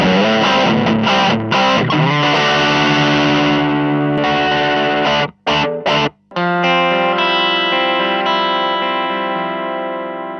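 Fender Meteora electric guitar played through a Zoom G1-4 multi-effects unit, giving a loud, heavily distorted and chorused tone: a run of strummed chords, two brief cut-offs, then a long ringing chord fading out, with no talk.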